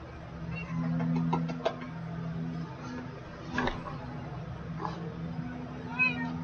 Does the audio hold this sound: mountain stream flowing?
no